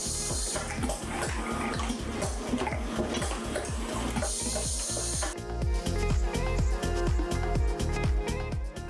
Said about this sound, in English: Making sure the ice cream boxes are filled and look neat is the forte of the manual ice cream filling machine.